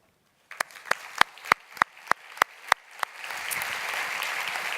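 A conference audience at an opening session starts with about eight separate, evenly spaced claps, then breaks into dense, sustained applause that fills the room to the end.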